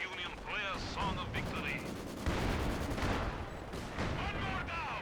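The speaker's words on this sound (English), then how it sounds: "I'm calling in a heavy artillery barrage." Heavy artillery barrage in the strategy game Company of Heroes 2: a dense string of shell blasts and crackling gunfire close together, rising and falling in bursts beneath faint voices.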